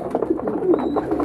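A one-legged carrier pigeon coos in a repeated series of soft, low, throaty calls, close by and steady, with no voices over it.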